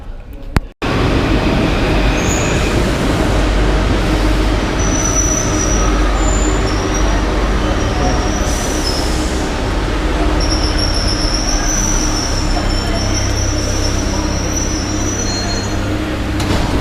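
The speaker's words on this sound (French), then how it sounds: "Retour dans le métro." A Paris metro train runs underground with a loud, continuous rolling rumble from inside the car and occasional high metallic wheel squeals along the ride.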